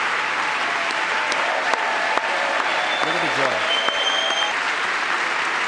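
An audience applauds a speech in a large hall, steady dense clapping throughout, with a voice talking briefly over it.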